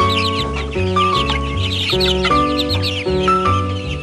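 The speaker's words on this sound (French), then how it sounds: "Donc ici, j'ai un jeune coq de champ de Nisley, âgé environ d'1 mois." A month-old young Nisley field rooster crows repeatedly up close, its cracking, unformed calls loud and overlapping with clucks and chatter from other ornamental poultry nearby.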